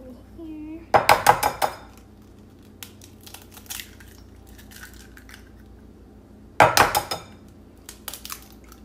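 Four eggs are cracked against a bowl into a cupcake batter of sour cream and pumpkin, in two close bursts of sharp knocks and clinking shell several seconds apart, with quiet kitchen handling between.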